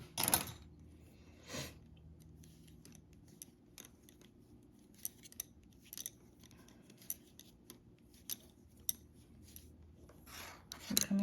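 Knitting with double-pointed needles in circular knitting, close-up: sparse light clicks and taps of metal needles scattered irregularly over a quiet background, with a few soft rubbing scrapes, no talk.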